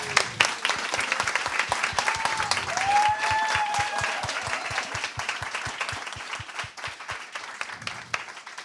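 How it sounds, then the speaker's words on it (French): An audience claps for award winners at an excellence awards evening, a steady roomful of hands with a few whistles, thinning out toward the end. "Je vous invite à les applaudir."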